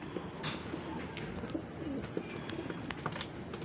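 Hungry pigeons coo softly nearby, with occasional light taps and rustles over steady background noise.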